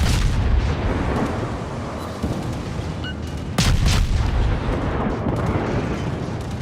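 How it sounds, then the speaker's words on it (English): A naval gun salvo firing HE shells in World of Warships booms out as heavy, rumbling blasts, with a sharp loud report midway over a constant low battle roar. "Get some more plunging HE fire down onto his deck."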